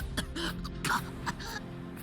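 A male character coughs and clears his throat in short, rough bursts while choking on smoke in a burning building, several harsh coughs over a few seconds with faint musical tones underneath.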